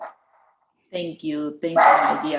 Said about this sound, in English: She sounds like a huge dog,